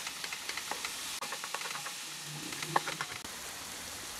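Ground beef and chicken mixed together sizzle in a hot pan while being broken up, a steady frying hiss with soft scraping and stirring taps, fairly quiet and without voices.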